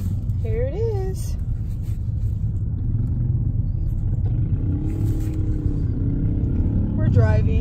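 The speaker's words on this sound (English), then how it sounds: "We're driving, so don't mind the noise." Steady low road rumble from a car driving on a San Francisco trip, loud and continuous throughout, with people talking over it inside the cabin.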